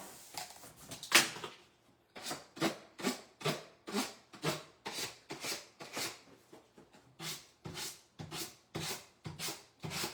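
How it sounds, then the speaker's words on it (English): Sandpaper rubbing against a dollar-store pumpkin sign caked with built-up paint: a steady run of about fifteen close, rasping back-and-forth strokes, evenly spaced, with no talking. "I don't even know if this sandpaper is hard enough."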